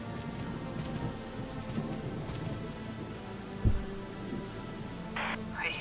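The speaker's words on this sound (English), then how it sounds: "I hate thunderstorms." Steady rain pours through a thunderstorm in Valkyria Chronicles 4, with a sharp thunder crack midway and low rumbling beneath the constant hiss of falling water.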